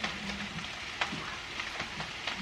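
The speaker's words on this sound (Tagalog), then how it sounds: "It's raining now." Rain falls in a steady, faint patter with scattered sharper drops ticking throughout and no voices.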